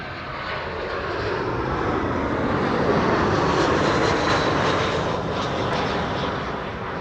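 Airliner named Orange Pride taking off from the Polderbaan runway at Schiphol, a continuous loud, broad jet roar that holds steady and slightly builds, heard from some distance with no talk.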